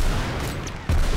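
Gunfire from the video game ROUNDS comes as a dense, loud burst that briefly drops away and then surges back as the shots continue.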